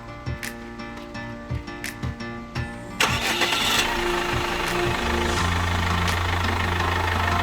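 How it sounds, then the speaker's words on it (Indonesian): A Chevrolet Captiva FL diesel cranks with a rapid rhythmic starter chugging, then catches and settles into a steady, loud, close diesel idle. "sekarang start mobilnya"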